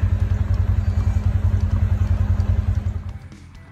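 Tractor running while feeding cattle on a farm, a close, steady chugging diesel idle with a rapid regular pulse that fades out near the end, with no talk.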